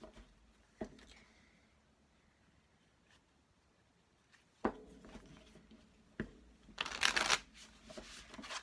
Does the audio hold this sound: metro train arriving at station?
no